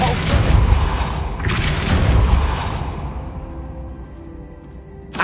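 A magical Depulso repelling spell cast in Hogwarts Legacy lands as a loud, broad whooshing boom, surging twice in quick succession before fading into a low rumble, with a small thump at the end.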